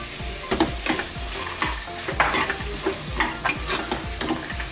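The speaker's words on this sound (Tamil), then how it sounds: "இப்போ பச்சை பட்டாணி சேர்த்துடலாம்." Soaked green peas sautéed in a pan for soybean pulao, a close, steady sizzle broken by a rhythmic series of spoon scrapes and knocks against the pan, with no one speaking.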